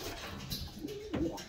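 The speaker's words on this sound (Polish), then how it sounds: "to jest przepiękny gołąb" A racing pigeon coos softly in a breeding loft, a brief low murmur amid faint room noise and rustling, with no speech.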